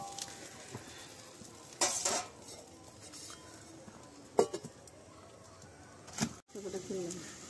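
A spoon stirs rohu fish curry masala in a pot over a village clay stove, giving scattered metallic clinks and scrapes with a few louder knocks against the pot rim. A voice can be heard faintly at times.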